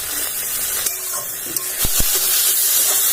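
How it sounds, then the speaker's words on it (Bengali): Ginger spice paste sizzles and fries steadily in a hot pan, a continuous close hiss broken by a few soft stirring scrapes, with no voices. "মশলাটা তো খুব সুন্দরভাবে ভাজা হচ্ছে"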